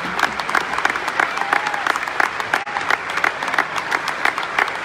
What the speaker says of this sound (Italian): il compleanno di Paolo Rossi, a cui farei un applauso.